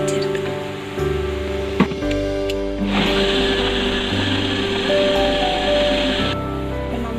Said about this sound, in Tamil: இப்போ மிக்சியை நம்ம மூடி அரைச்சிருக்கோம்.